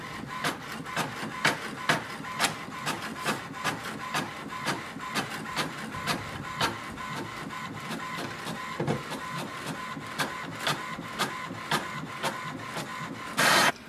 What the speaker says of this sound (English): we can use it for wireless printing